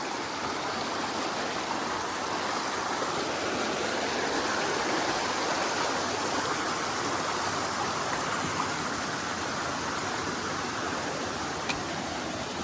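Fast stream water tumbles at an Odisha waterfall, a constant close hiss and roar that holds evenly for the whole stretch with no voices.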